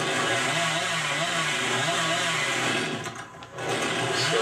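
A killer's chainsaw in Dead by Daylight revs loudly and continuously with a wavering, buzzing drone that briefly dips before surging again.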